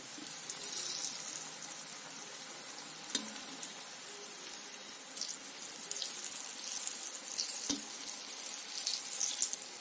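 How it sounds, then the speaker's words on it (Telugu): Sweet potato gulab jamun deep-frying in hot oil until golden brown: a continuous bright hissing sizzle that swells slightly toward the end, broken by a couple of faint utensil taps, close up and without any voices. "గోల్డెన్ బ్రౌన్ వచ్చేలా వేయించుకోవాలి"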